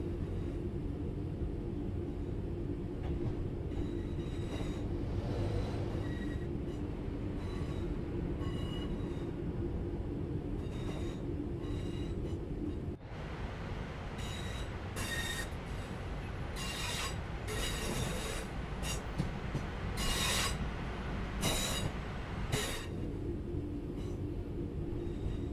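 Class 323 electric multiple unit on the Birmingham Cross City line in Train Sim World 4, rumbling steadily with sustained traction hum and wheel-on-rail noise, sharp clicks and squeals crowding in during the second half.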